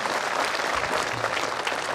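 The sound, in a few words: audience applause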